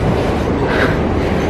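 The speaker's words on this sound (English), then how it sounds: "So we are here at the DSCC metro station and we're going out." A metro train at DSCC metro station in Doha rumbles loudly and steadily, a close, continuous roar of the cars with faint rail clatter and no talk.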